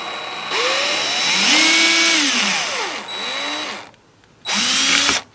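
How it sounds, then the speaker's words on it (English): Drill backing out a stripped screw under heavy pressure, loud whining bursts whose pitch swoops up and down as the motor slows and speeds, a short pause, then one more burst. "Get our drill and put a load of pressure into the actual screw hole."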